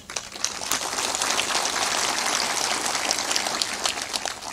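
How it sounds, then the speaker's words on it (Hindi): Applause from a satsang audience in Tonha Arriya, Bihar, a dense, even wash of many hands clapping that holds steady for the whole stretch, fairly loud and continuous with no speech over it. "ताली भी जोर बजाया करो, इतनी मरी मराई ताली क्यों बजाते?"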